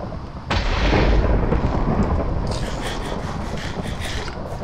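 Thunder rumbles and crashes loud and close during a thunderstorm in the video game Minecraft, a heavy sustained roll over steady rain that eases slightly toward the end.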